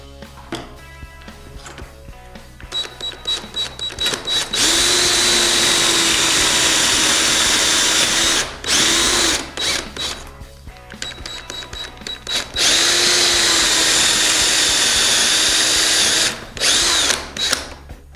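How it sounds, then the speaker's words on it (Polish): A power drill with a pocket-hole bit bores into 29 mm thick pine set in a Wolfcraft Undercover Jig: two long, loud, steady drilling runs of several seconds each, framed by short revving bursts and trigger pulses. "Otwory zostały wywiercone."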